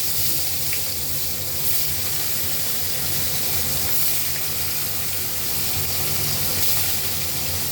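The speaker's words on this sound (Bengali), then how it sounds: "তেলটা গরম হয়ে গেছে আমি মাছটা ভেজে" Snakehead (shol) fish frying in hot oil gives a loud, steady, close hiss that runs unbroken throughout, with no voices over it.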